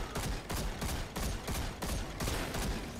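Gunfire in the video game Destiny 2 rattles out as rapid, evenly spaced bursts of loud shots, dense and close, continuing for a few seconds without any talking.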